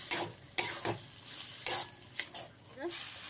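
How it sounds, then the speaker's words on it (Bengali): Cabbage stirred in a kadai over a high flame: sharp, irregular spatula scrapes and clinks against the pan, about five strokes, over a faint sizzle, close and moderately quiet, with no talking. "কড়াইতে দিয়ে খুব ভালোভাবে বাঁধাকপিটাকে নেড়ে রাখতে হাই করে"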